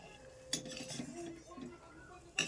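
A spatula scrapes mashed bean paste out of a wok, with quiet rubbing and a few sharp metallic scrapes, close and soft.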